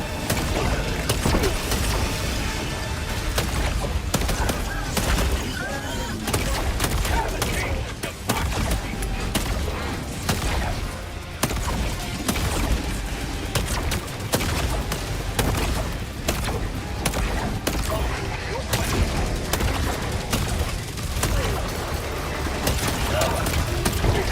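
Sustained, dense game combat in Helldivers 2 with rapid gunfire and explosions layered into a loud, continuous wall of noise lasting the whole stretch, with no pauses.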